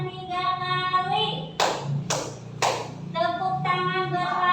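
A class in a school lesson claps hands in a rhythm exercise, three sharp, evenly spaced claps, with a drawn-out voice before and after them.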